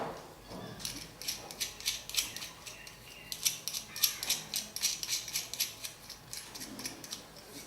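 Nuts are threaded onto bolts set in wooden bars, giving a quiet, rapid series of metallic clicks and ratcheting ticks that continue steadily throughout, close by and faint.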